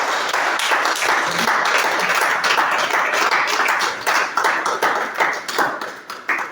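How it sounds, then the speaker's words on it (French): A church congregation applauds together in a dense, steady wash of clapping that carries for several seconds, then thins into scattered, uneven claps near the end, with no talking. "Est-ce qu'on peut acclamer le Seigneur?"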